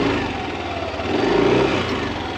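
Engine of a 2021 Yamaha Aerox scooter running at steady speed with a slight rise in revs midway, a continuous close mechanical hum with no talking.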